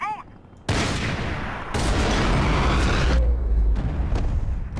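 Rapid gunfire from the video game Max Payne 3, loud bursts of shots overlapping into a dense fusillade with booming impacts, a short quieter moment first, then continuous firing close up.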